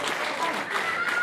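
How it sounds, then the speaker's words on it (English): A wrestling show crowd in a Watertown venue cheers and applauds steadily, a dense roar of voices and claps sustained throughout. "Now this great Watertown crowd coming alive."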